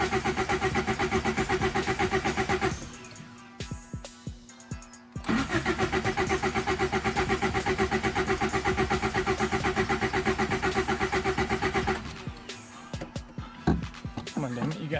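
A turbocharged Honda Civic with a D16Z6 engine cranks repeatedly without catching, the starter whirring in a fast rhythmic chug that stops twice briefly before resuming, close and loud.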